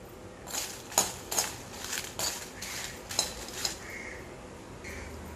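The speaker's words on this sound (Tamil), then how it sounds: "மிளகாய் வறுத்துட்டேன்" Dried red chillies roasting in a pan for a spicy garlic pickle, stirred with a metal utensil: a series of close scraping clinks and knocks, several strokes in a loose rhythm, then quieter light scrapes.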